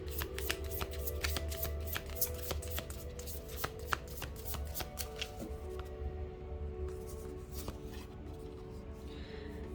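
A deck of cards is shuffled close by in a rapid run of crisp riffling clicks and flutters. The shuffling keeps going for around ten seconds over a faint steady hum, with no talking.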